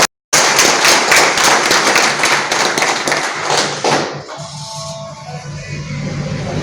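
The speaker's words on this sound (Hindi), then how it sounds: "एक जोरदार तालियों के द्वारा इनका स्वागत करें" A crowd claps to welcome a guest at a ward members' federation gathering, brisk and loud with many close hands, after a brief silent gap; the clapping then fades into a murmuring room with a low hum.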